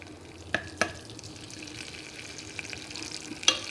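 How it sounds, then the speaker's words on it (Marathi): Rice being roasted in ghee in a pan for rice kheer gives a faint, steady frying hiss, broken by a few sharp clinks of a utensil stirring against the pan. "आणि ह्याच तुपामध्ये आपण तांदूळ भाजून घ्यायचे"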